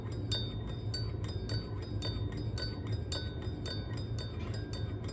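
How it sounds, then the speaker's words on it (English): A spoon stirs honey into a hot toddy in a glass, clinking steadily against the sides in a quick, even rhythm of bright taps that carries on throughout, up close with no talking. "you want to stir really well to make sure that you really dissolve all that honey in there and incorporate it"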